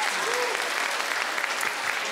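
A studio audience at a comedy talk show applauds, producing a dense, loud, continuous wash of clapping from many hands that lasts the whole short stretch.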